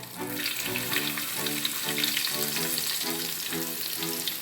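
Garlic sizzles in hot oil left over from fried chicken while egg fried rice is cooked restaurant style, giving a steady, close frying hiss with a rhythmic scraping pulse and no talk.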